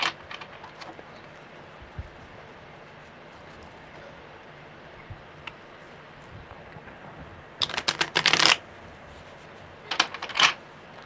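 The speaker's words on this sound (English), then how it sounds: "one more good shuffle" Tarot cards being shuffled by hand during a live reading: quiet room tone with faint taps, then two short bursts of crisp riffling cards close by.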